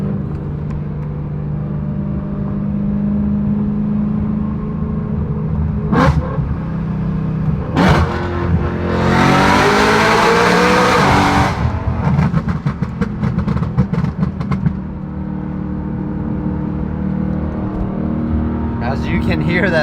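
BMW E90 M3 fitted with a full titanium exhaust, its engine revving in sharp bursts that climb into a loud, rasping high-rpm wail before dropping back to a rumbling idle, with voices talking nearby.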